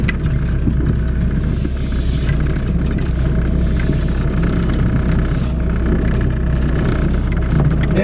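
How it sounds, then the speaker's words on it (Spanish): A car travels along a rural mountain road in Oaxaca between Guadalupe and Zapotitlán, a loud, close, continuous engine and tire rumble holding steady throughout. "miren, ahí va un carro"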